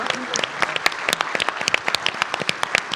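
A conference audience claps for panelists at an energy-transition event: steady, fairly close applause with distinct individual claps throughout.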